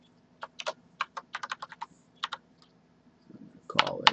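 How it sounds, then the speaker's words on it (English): Close computer keyboard typing a heading in Revit 2013 MEP software: a quick irregular run of crisp key clicks, pausing briefly, then a denser cluster of keystrokes at the end, with no talking. "here I'm going to select this and I'm going to type in a heading."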